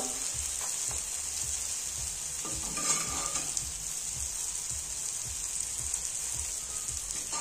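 Masala-coated pav bread rolls roasting in a hot pan give a steady, close sizzle and crackle that runs unbroken throughout, with no talking.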